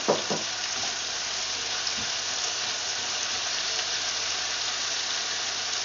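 Onion and chili pepper sizzle steadily in a pan while being stirred, a dense continuous frying hiss with a few faint knocks of the utensil near the start.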